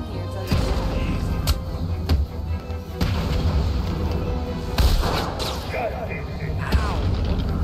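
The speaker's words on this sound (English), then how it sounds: "I like how he's constantly firing at me." Enemy gunfire in Batman Arkham City: scattered cracks and booms over a constant rumbling, mechanical din, steady and fairly loud, with no clear voice over it.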